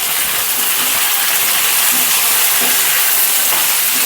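Ginger paste and radhuni seeds sizzling in hot oil in a pan while cooking Bengali shukto, a steady dense hiss with faint stirring clicks underneath, close and fairly loud throughout.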